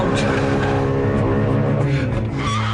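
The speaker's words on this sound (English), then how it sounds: "if I switch the traction control off, try the same sort of dynamic start with lots of rev" A BMW M3 E92 with traction control switched off revs hard for a dynamic launch start, its engine loud and close with a sustained harmonic howl and tire squeal edging in toward the end.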